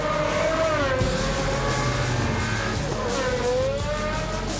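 A Pagani Zonda Cinque Roadster with a mid-mounted naturally aspirated V12 drones steadily up close, its engine note rising and falling slightly through a continuous, loud run with tyre and road noise beneath.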